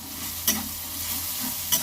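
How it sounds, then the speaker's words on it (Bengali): Crushed garlic sizzles steadily with browned onions in a pan, stirred close up with two brief scraping clinks over the constant frying hiss. "রসুনটা দিয়ে ভালো করে নেড়ে নেব।"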